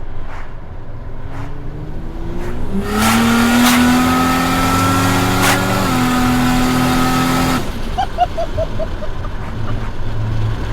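An 800-horsepower Ford Barra-engined FPV F6 ute accelerates hard on an open road, its engine rising in pitch through a long loud pull, shifting, then backing off to a lower burble.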